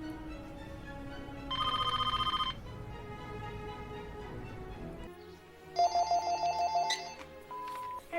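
A telephone rings indoors in two separate electronic bursts, a short ring and then a longer, louder one a few seconds later, over a quiet room background with no talking.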